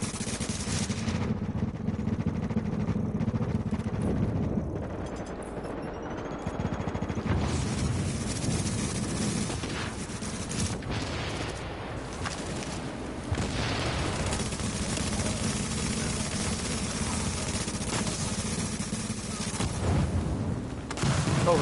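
Explosions and gunfire in a PS4 video game, with a dense, continuous roar of rumbling blasts and rattling shots that barely lets up, and almost no talking.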